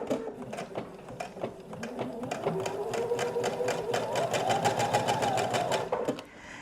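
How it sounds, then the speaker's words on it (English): Sewing machine top stitching a fabric bread bag: a close, continuous mechanical whir with quick, even needle clatter that speeds up slightly toward the end before stopping. "I'm just going to stitch this down"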